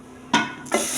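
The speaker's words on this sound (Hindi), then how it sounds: "ये देखें यमी सा तड़का जो है ना वो हमारा लग गया है।" Hot desi ghee tadka poured onto cooked rice masar, two sudden loud sizzling bursts a fraction of a second apart that keep hissing afterward, with no voices.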